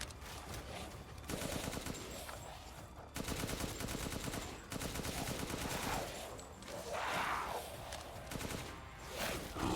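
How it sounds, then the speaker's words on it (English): Sustained gunfire from the survival-horror game Resident Evil 8, dense overlapping shots and bursts running nearly continuously at steady loudness, with brief dips and a sharp restart partway through. "Trying to get them to stop shooting me."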